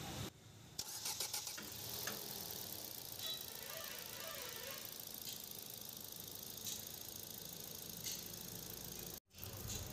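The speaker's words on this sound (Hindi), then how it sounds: "तो दोस्तों इंजन की साउंड आप सुन सकते हैं" A Ford Figo petrol engine, freshly overhauled, cranks and catches, then settles into a steady, rattly idle that runs on loud and close before cutting off abruptly.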